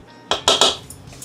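Metal whisk striking the side of a bowl while stirring homemade self-rising flour: three sharp clinks in quick succession, then a fainter tap, close and clear with no talk.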